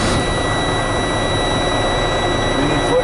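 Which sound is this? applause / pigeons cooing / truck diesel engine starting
truck diesel engine starting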